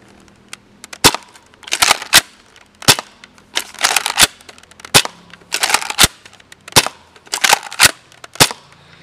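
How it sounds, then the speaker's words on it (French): A toy dart blaster firing foam darts, loud sharp snaps repeated about a dozen times, each followed by a brief rattling burst of reloading or priming, close up with no talking. "on voit quand même que ça tire assez bien, pas de difficulté à tirer"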